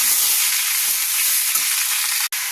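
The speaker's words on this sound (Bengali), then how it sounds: "তো সেই কারণে আগে আমি 3-4 মিনিট ফ্রাই করে নেব" Sliced cucumber frying in oil in a pan for a Bengali shukto, giving a steady, loud, close sizzle that runs unbroken apart from one brief dropout near the end.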